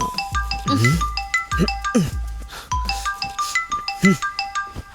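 A phone ringtone plays a bright, repeating electronic melody in quick rising and falling notes, with brief voices sounding underneath.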